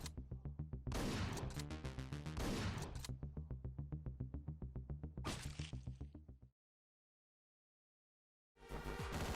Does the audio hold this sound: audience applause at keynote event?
no